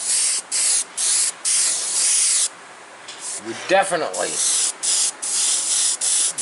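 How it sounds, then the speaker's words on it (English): An airbrush sprays paint in short, repeated hissing bursts with pauses between, close and fairly loud, and a brief voice-like sound breaks in midway. "We got some overspray. We got some vapor."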